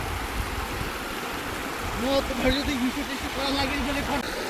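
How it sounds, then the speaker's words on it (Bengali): A rushing waterfall stream at a scenic stop gives a steady broadband wash of water throughout, while a person talks briefly over it in the second half. "এখানে খুব সুন্দর ঝর্ণা"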